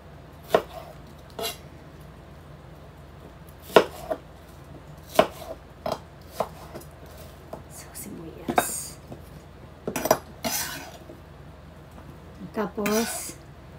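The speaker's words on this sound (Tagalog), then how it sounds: "Hiwain natin yung talong." Eggplant being sliced with a knife on a board in a home kitchen, a series of sharp, separate cutting taps and knocks spaced irregularly, with a person speaking in between.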